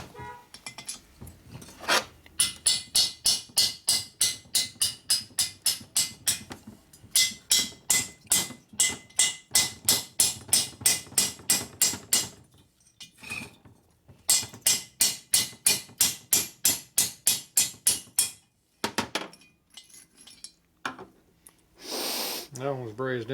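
Hammer blows knocking a brazed-in part out of a 1941 Harley-Davidson WL 45 flathead motor being built as a 56ci stroker, loud sharp metallic strikes in long rapid bursts, repeated in series with short pauses between.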